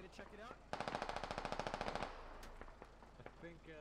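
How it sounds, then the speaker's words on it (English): Sustained automatic gunfire in the tactical shooter game Squad, a rapid burst of about twenty evenly spaced shots lasting over a second, loud and close, with voices talking before and after. "Someone's taking shots at me."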